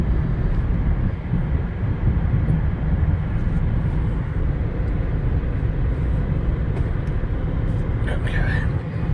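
A 2020 Chevy Impala LT with a V6 and six-speed automatic accelerates while being shifted manually through the gears, a continuous loud engine and road roar heard from inside the cabin.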